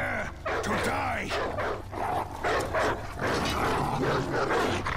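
Dogs or wolves yip and bark repeatedly in the For Honor battle game, with whimpering mixed in and someone talking over the top throughout.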